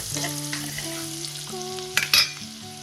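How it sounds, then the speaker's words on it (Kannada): Garlic paste sizzles steadily in a hot pan while a spoon scrapes and stirs it, with louder clattering strokes near the end. "ಬೆಳ್ಳುಳ್ಳಿ ಪೇಸ್ಟ್ ಹಾಕೋರಿ ಚೆನ್ನಾಗಿ ತಿರುಗಾಡ್ರಿ"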